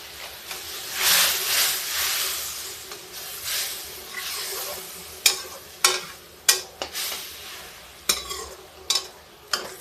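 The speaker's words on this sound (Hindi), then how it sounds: "अभी देखिए इस मसाले को हम पकाएंगे, मसाला देर तक भूनना पड़ेगा।" Masala with black pepper fries in a pan, a soft sizzle under repeated stirring and scraping, with sharp clacks of the spoon against the pan growing more frequent toward the end.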